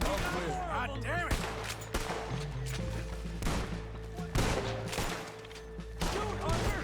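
A Red Dead Redemption 2 shootout crackles with repeated loud gunshots, close volleys fired in quick succession over a sustained tonal music bed, with the bursts hitting again and again throughout.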